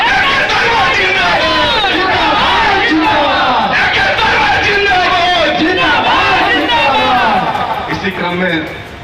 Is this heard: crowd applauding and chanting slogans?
yes